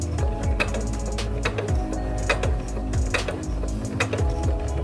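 A Singer C430 sewing machine runs close by, its needle rattling in a fast mechanical rhythm with small bursts of speed and clicks as the speed-control pedal is pressed.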